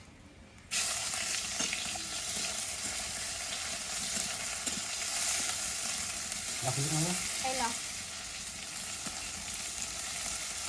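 Chopped onion frying hard in very hot oil with dried red chillies and spices for a home-cooked curd chicken biryani, a loud continuous sizzle that starts abruptly and holds steady, with a brief voice and stirring noises partway through.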